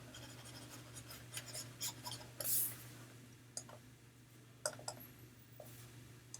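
Eraser or cloth rubbing writing off a board during a physics lesson, soft scattered scrubbing strokes and light clicks over a low steady hum, quiet and close.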